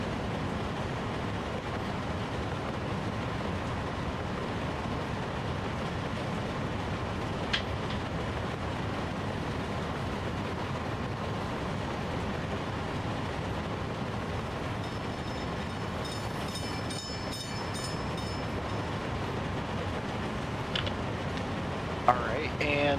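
A coal train rolls along the rails in the video game Workers & Resources, making a continuous low rumble that holds steady for the whole stretch, with a few faint clicks near the end.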